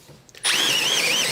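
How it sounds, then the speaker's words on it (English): A light Milwaukee M12 Fuel cordless drill spins up after a brief quiet start and keeps running at a steady, high, close whine. "So it's a real nice, light little drill."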